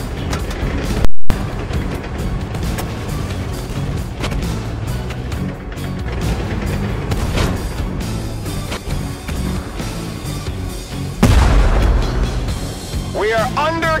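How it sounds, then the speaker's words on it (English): Gunfire and explosions from the tank combat video game Tank Force rumble and boom continuously, with a loud blast near the start and another heavy burst toward the end, over dense game effects and music. "We are under gunfire!"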